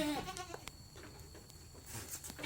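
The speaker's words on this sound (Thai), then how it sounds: "แพะมันชอบกระโดดเลย" A young goat bleats faintly in a farmyard, one short cry at the start amid low rustling and scattered background noise.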